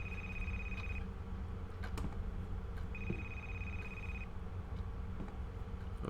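A telephone rings inside the horror video game A Place Forbidden, two long electronic ring bursts separated by a pause, steady and fairly loud over a dark droning ambient background.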